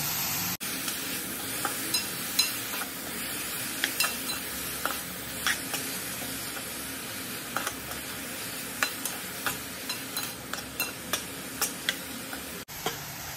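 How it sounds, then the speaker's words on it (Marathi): Finely chopped tomato fries in a pan while being stirred, with a steady hissing sizzle and regular clicking taps of the spoon against the pan, close and without voices. "तर याच्यामध्ये आपण जो 1 टोमॅटो घेतला होता बारीक चिरलेला तो घालणार। आता हे चांगलं आपण फ्राय करून घेऊ।"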